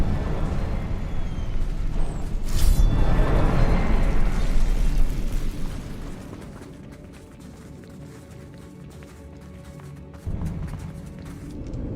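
The Confringo fire spell exploding in Hogwarts Legacy, a loud fiery blast with a rumbling burst that fades over several seconds, followed by a lighter pop later, with game ambience around it.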